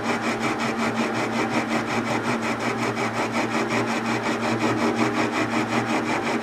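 A metal lathe cuts threads on a small bench vise part with high-speed steel or cobalt tooling at about 350 RPM, giving a steady, close, rhythmic grinding whir that runs continuously.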